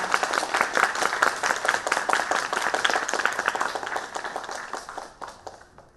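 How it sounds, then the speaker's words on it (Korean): A live audience at an award ceremony for a UCC video contest gives a sustained burst of dense, even clapping that holds steady for several seconds and then tapers off near the end. "여러분 힘찬 박수 부탁드립니다"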